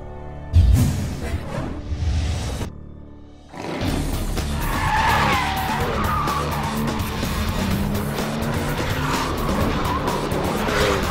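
A Porsche 911 GT2 RS is driven hard on the Porsche Experience Centre handling circuit at Silverstone, tires squealing and skidding over a loud, rising engine roar after a brief opening burst and a short gap.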